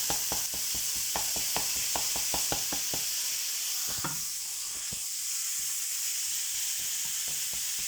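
Cottage pie mince fries in a pan, a constant bright sizzle punctuated by a rapid series of sharp knocks as a spoon bashes and breaks up the meat, then fewer, sparser taps.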